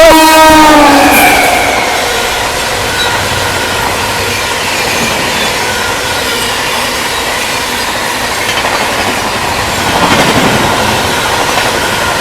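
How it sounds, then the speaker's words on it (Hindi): Rewa Superfast Express 12427, bound for Anand Vihar, rushing past at a flat 130 km/h: a loud, sustained roar of wheels and coaches with a brief horn-like tone at the start, holding steady and swelling again near the end. "फ्लैट 130 की रफ्तार में अपनी रीवा सुपरफास्ट एक्सप्रेस।"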